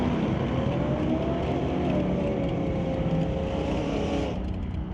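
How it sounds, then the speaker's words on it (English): Two pickup trucks race side by side down a drag strip at an ET bracket event, a loud sustained engine roar with a rising whine, steady and close before easing off near the end. "Two pickups going down track."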